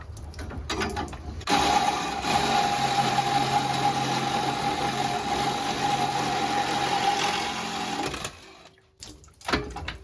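Copper water pipe being cut for a basement sink: a steady mechanical whine runs unbroken for about six seconds, starting and stopping abruptly between quieter handling noises.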